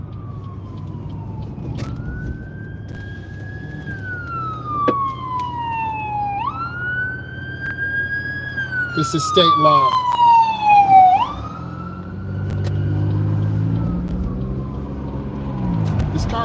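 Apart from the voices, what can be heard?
police car siren passing on road at night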